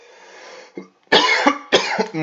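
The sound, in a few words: cough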